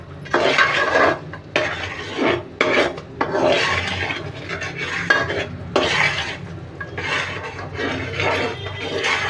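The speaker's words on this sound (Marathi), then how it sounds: "आता याला सतत ढवळत राहायचं" Jaggery syrup for til-gul laddoos is stirred continuously in a pot, producing loud, rhythmic scraping and rasping strokes of a spoon against the metal, close up and without any talking.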